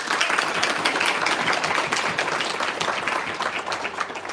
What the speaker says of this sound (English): Let's give our boosters, who make Fairport Girls Volleyball so special, no matter the occasion, a big round of applause.